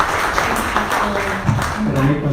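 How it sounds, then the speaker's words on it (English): Audience applause after a presentation at a Lake County, Eustis meeting, a short burst of steady clapping from a room of people, moderately loud, with some voices mixed in. "I really want to give you a round of applause for your presentation."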